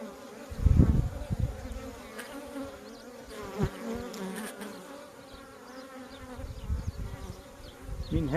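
Honeybees at an open beehive hum steadily nearby during an inspection, with a few louder passes of single bees and faint handling noises.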